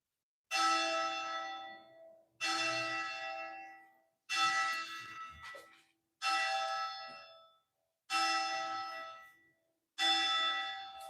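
A church bell tolls six times at a slow, even pace of about one strike every two seconds. Each ringing stroke decays before the next, with no talking over it.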